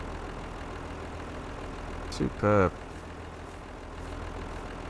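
A steady low engine idle drones through the whole stretch as a tractor or truck sits running in Farming Simulator 22, with a brief spoken word breaking in midway.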